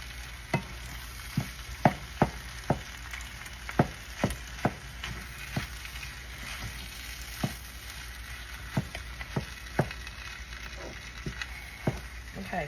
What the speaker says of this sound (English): I'll stir this around for a few more minutes and let it cook.